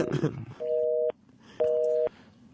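Disconnected-number telephone signal: two sustained steady tones, each about half a second, separated by a short gap, heard over a line with brief talk just before.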